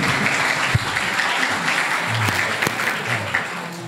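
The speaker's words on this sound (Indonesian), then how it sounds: "tepuk tangan sekali lagi" A burst of enthusiastic applause, dense clapping from a crowd nearby that continues steadily throughout.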